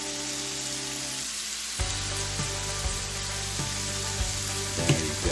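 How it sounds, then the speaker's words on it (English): Jimmy Dean sausage seasoned with mesquite frying in a pan for a Texas-style breakfast casserole, a loud steady sizzle with occasional soft clicks as it is stirred, no voices. "While the sausage is cooking"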